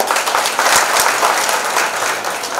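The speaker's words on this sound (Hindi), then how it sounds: "खड़ा करवा के ताली बजाओ" Loud, dense applause from an audience at an event with an actress, sustained clapping from many hands filling the whole stretch close up, with no talking over it.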